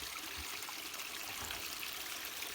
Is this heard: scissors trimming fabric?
no